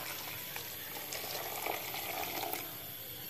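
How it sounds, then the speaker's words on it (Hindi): Roughly half a litre of water is poured into a pot of spiced mince keema with peas cooking over a medium flame, giving a steady close rushing, bubbling sizzle with no talk. "और अब मैं इसमें ऐड करूंगी तकरीबन 1/2 liter के करीब पानी"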